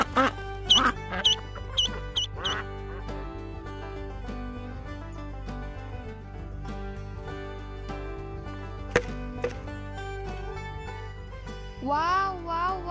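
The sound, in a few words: duckling quacking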